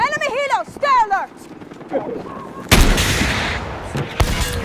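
Gunfire in Battlefield 6 aimed at an enemy helicopter, a loud burst of shots and rumbling blasts that starts abruptly midway and carries on as a dense, continuous barrage after voices talk at the start.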